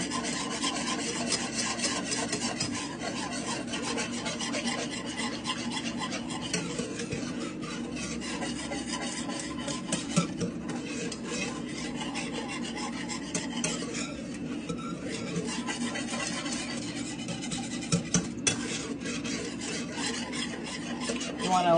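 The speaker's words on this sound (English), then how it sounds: "we're gonna mix it really well all together" A chicken Alfredo sauce gets mixed in a pan, with steady scraping and rubbing of a utensil against the pan and an occasional clink, close and continuous without talk.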